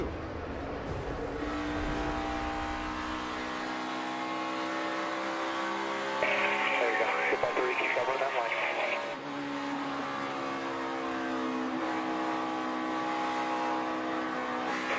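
Onboard a NASCAR Cup race car, number 42, at full speed in the 2017 O'Reilly Auto Parts 500: a loud, continuous engine drone with shifting pitch and a brief rise in the middle, with no one talking.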